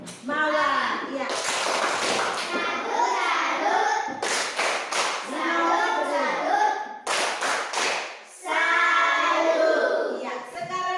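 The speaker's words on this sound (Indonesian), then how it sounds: "kita tepuk salut untuk kelompok" Classroom children at an elementary school perform the rhythmic 'tepuk salut' clap, several sharp bursts of group clapping breaking through continuous, loud children's chanting and voices.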